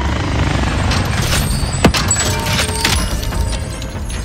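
Attack helicopter in the Pacific map of Call of Duty: Warzone, a steady loud rotor drone filling the whole stretch alongside game effects, with one brief sharp transient midway.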